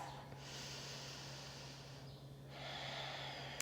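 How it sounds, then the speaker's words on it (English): Slow, deliberate ujjayi breathing during a yoga flow, a soft hissing nasal inhale followed by an exhale, steady and close with a low background hum and no talk. "Even and intentional breathing"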